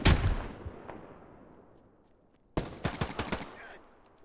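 Video game gunfire from a grenadier firing at the top of a building: a loud opening burst decaying into a long tail, then a sharp rapid string of six or so close shots in quick rhythm.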